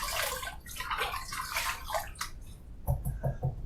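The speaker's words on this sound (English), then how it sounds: "We're going to go ahead and wet my face." Water splashes and sloshes close by as hands wet a face before a shave, running as a continuous wash that ends in a few distinct splashes.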